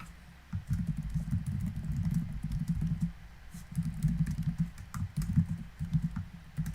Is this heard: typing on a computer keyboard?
yes